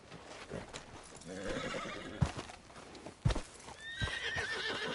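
Horse in Red Dead Redemption 2 whinnies and clip-clops close by, with hoofbeats and a couple of sharp thuds amid outdoor game ambience, a brief high neigh rising near the end.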